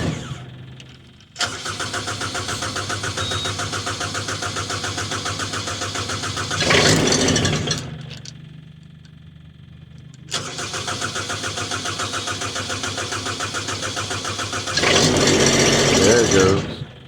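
Cold engine on Chinese auction equipment cranking repeatedly in long rhythmic bursts separated by pauses, with brief sputtering catches that die away, loud and close.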